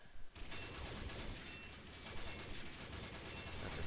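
Dense, rapid automatic gunfire in the online shooter Combat Arms: loud, continuous bursts of shots with no pauses, after a brief quieter moment at the very start.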